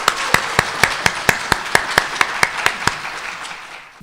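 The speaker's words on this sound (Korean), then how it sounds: "환영의 박수를 한번 보내심으로 모시겠습니다." Welcoming applause from an audience at a Korean Christian business (CBMC) conference session in Tokyo, heard as a run of evenly spaced, sharp claps over a soft crowd wash that fades toward the end.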